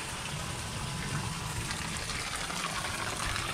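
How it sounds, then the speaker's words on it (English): Water gushing steadily into a boat bilge during a wash down, a continuous close rushing and splashing without speech. "I also try to fill up the bilge up to the point where when I'm doing my wash down"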